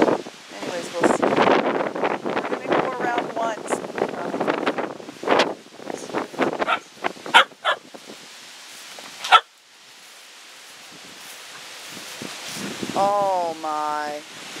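Gusty wind from tropical storm Alberto buffets the microphone outdoors, roaring under a voice early on, then easing to a lighter rush; a dog barks briefly near the end.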